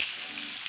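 A short burst of bright, hissing sizzle from a steak in a hot pan as it is basted with its juices, steady and close.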